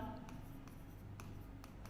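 A pen writes equations on paper: quiet, close scratching with a few sharp strokes spaced through the moment, faint against a low background hum.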